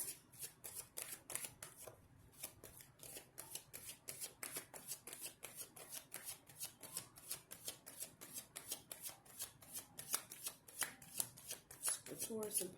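Tarot cards shuffled by hand in a steady, rapid riffle of crisp slaps and flutters, close and fairly quiet, continuing without pause with no talking.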